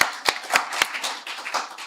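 A handful of sharp, separate claps from a small audience at a health and wellness seminar after a singer's performance, brief and uneven, overlapping with a soft background wash.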